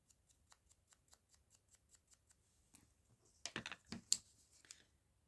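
Scissors snip paper around a circle in a quiet room: a regular series of small, faint cuts, then a brief cluster of louder crisp snips and rustles near the end.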